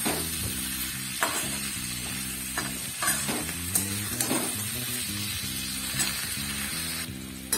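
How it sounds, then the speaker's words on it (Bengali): Spinach with salt and turmeric fries in a pan, with a steady close sizzle and occasional scraping stirs and clinks across the whole stretch. "একটু নুন দিয়ে দিলাম আর একটু হলুদ দিয়ে দিলাম, আর কিছুক্ষণ ভেজে এটাকে তুলে দেবো।"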